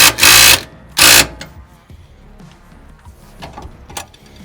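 A cordless impact gun with a 19mm socket rattles in two loud, short bursts, tightening a bolt on a Z1 off-road shock skid under a Nissan Frontier, followed by quieter handling clatter.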